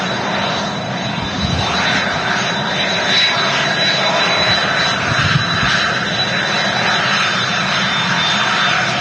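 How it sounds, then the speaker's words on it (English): Cessna Citation CJ2 business jet arriving at Manchester Airport, its engines producing a steady, loud roar with a broadband rushing hiss that holds throughout, with no talk over it. "the Cessna citation. CJ2 just in from Farnborough"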